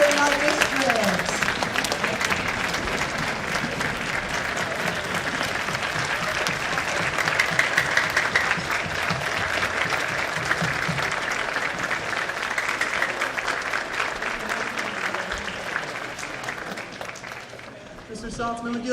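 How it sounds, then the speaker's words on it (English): Large school concert audience applauding a retiring music teacher, loud and sustained steady clapping for nearly twenty seconds, with a brief dip near the end and faint voices mixed in. "give Mr. Saltzman a big round of applause"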